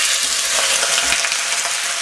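Pork hitting caramelized sugar in a hot pan gives a steady, loud, broadband sizzle that holds evenly throughout with no voices.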